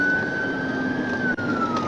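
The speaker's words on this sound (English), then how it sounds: "Lights and sirens blared." Police car siren wailing during a high-speed chase of a stolen Ford Fusion in Atlanta, a steady rising tone over road noise, fairly loud and continuous for under two seconds.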